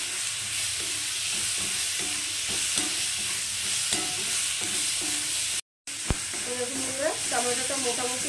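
Tomato softens in a hot pan with salt and turmeric, a steady sizzle broken by repeated scraping strokes of a spatula. A brief silence falls midway, then stirring resumes as a voice speaks faintly.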